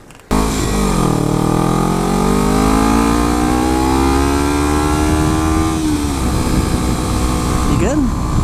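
A 2013 Triumph Daytona 675R sport bike revs and accelerates close by, the engine pitch climbing steadily and holding a loud, sustained howl with wind rush before easing off near the end.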